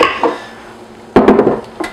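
A cast iron crepe skillet handled with a few clanks and knocks. The contacts are close and fairly loud, clustered into a burst of rattling metal hits after a quieter stretch.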